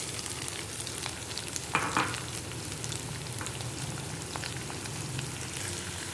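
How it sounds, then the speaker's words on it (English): Onions frying with cinnamon sticks and clove in a pan, a soft continuous sizzle with one brief louder stir or spatter near the start, quiet and steady, no talking. "give a good fry to the onions"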